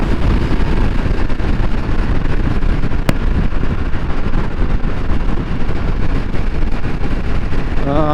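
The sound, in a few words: loud Triumph RS 1200 Speed Triple motorcycle engine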